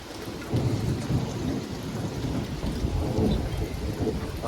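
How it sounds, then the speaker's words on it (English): Low rolling thunder rumbles through a thunderstorm, a continuous deep grumble layered with soft rain patter, heard at moderate distance and fairly quiet, with no speech. "I'm just waiting for that really loud clap of thunder that just shakes the house."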